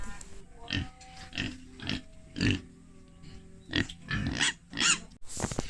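Native pigs grunt and oink in a close, irregular series of bursts, some short and others drawn out, with no talking.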